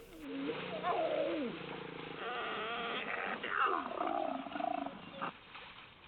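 Recorded lion roars and growls played back to wild mammals: drawn-out, rising and falling tonal calls with rough rumbling underneath, continuous and fairly loud for about six seconds.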